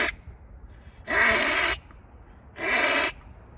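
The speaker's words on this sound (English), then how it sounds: "That kind of sound, that was my cat, hairball." A cat hacks up a hairball in two harsh, raspy bursts about a second apart, each lasting under a second, close and fairly loud against a quiet room.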